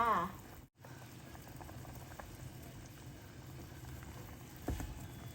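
Pork bone curry with eggplant simmers in a pot, a soft continuous bubbling and gentle patter of boiling liquid heard up close and quietly, with a short clatter near the end.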